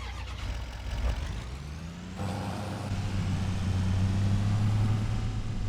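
A large truck engine with an air brake hiss, a loud rumbling idle with a sharp hissing release partway through, then the engine note rising and holding steady, close by.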